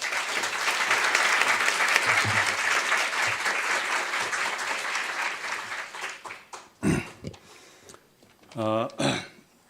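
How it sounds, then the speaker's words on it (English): An audience at a public address in Seoul gives former Korean ambassador Shin Bong-gil a loud round of applause that fades out after about six seconds, followed by someone speaking. "So please give him a big round of applause"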